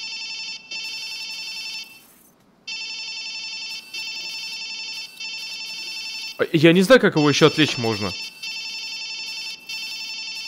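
A telephone in Watch Dogs 2 rings in repeated electronic trilling bursts with short gaps, loud and steady, while someone speaks over it partway through.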